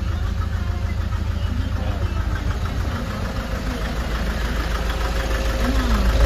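A Nissan Urvan Estate ZD30 diesel engine in runaway produces a continuous loud, rough, rattling drone with a slowly rising pitch and constant vibration.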